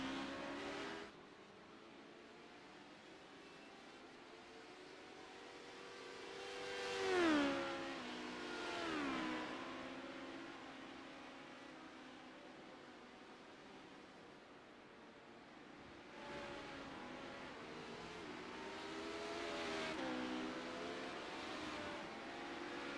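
A race car accelerates out of the pits during a CORE Premier Series race, its engine note swelling in two passes over a steady far-off roar of track noise.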